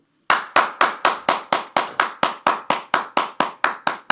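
A single pair of hands claps in a steady, even rhythm, about sixteen sharp, loud, close claps with short decays and no talk, at a speech evaluation meeting.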